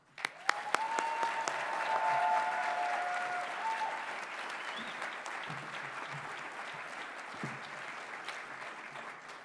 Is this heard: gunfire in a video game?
no